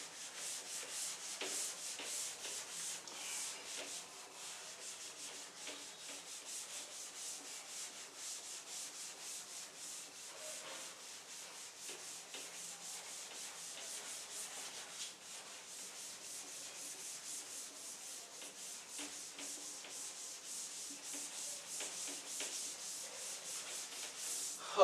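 A classroom board is rubbed clean with a duster, a faint, steady scratchy brushing that continues in uneven strokes for about twenty-five seconds with no talking.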